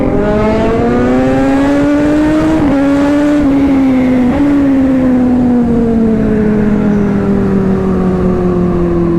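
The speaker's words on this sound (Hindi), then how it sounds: "ये 10R गई। ओ भाई देख रहे हो क्या पटाखे मार रही है भाई।" A Kawasaki Ninja ZX-10R superbike roars past very loudly on a busy night road, its engine note rising and then falling away as it goes, with no clear exhaust pops standing out.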